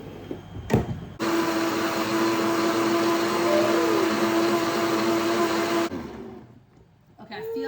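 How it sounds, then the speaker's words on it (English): A countertop blender whirs steadily at high speed for about five seconds as it purees a thin chickpea wrap batter, loud and close, starting and stopping abruptly with faint handling noise around it. "let's blend this up and hopefully I don't break the blender"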